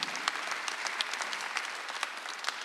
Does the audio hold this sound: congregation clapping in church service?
yes